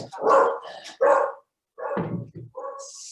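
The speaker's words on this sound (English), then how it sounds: "This is my dog." A dog barks indoors during an online meeting, giving several loud, close barks in two bursts separated by a short pause, followed by a brief softer sound.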